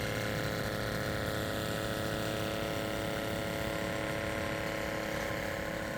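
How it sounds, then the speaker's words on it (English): A pump on an antique off-grid steam boiler engine chugs steadily in a continuous mechanical drone with a fast repetitive pulse, close and constant. "You can hear the pump pumping here."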